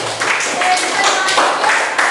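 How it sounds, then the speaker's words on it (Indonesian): A classroom of students claps for a student group during a lesson, a brief scattered round of hand claps with voices talking over it. "tepuk tangan buat kelompok Panji"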